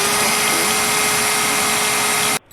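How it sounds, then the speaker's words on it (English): A power drill whines with a steady, loud motor hum and a constant pitched tone, running continuously close by before cutting off abruptly near the end. "so I'm going to just do a little bit of drilling"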